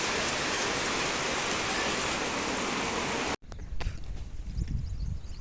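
Steady, dense rain falls on a farm field, a loud even hiss that stops abruptly, followed by quieter dripping and faint rustling close by.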